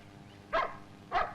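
Two short, fairly quiet dog barks about half a second apart ring out alone against a low background hum.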